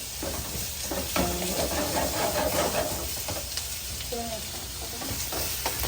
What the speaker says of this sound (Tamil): இதை போட்டுட்டு கொஞ்சம் வதங்கி கொண்டு இருக்குது